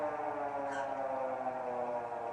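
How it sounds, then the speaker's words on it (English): A steady electronic Ajax home security alarm siren sounds continuously at moderate volume, holding a harmonic-rich tone throughout. "the siren went off"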